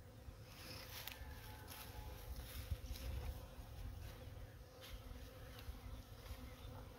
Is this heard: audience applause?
no